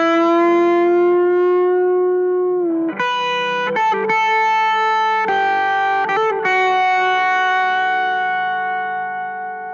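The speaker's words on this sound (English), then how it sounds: "I'm going to play a riff dry" Telecaster riff played through three stacked overdrive pedals with no delay: bright, distorted sustained notes and chord changes, loud and close, alone without talk.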